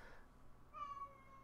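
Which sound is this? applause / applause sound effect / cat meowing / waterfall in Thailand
cat meowing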